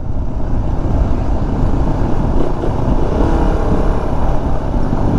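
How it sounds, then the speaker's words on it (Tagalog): Road traffic roars past on a street, a dense, loud rush of motorcycle and car engines close by with a constant steady wash and no clear breaks. "Traffic."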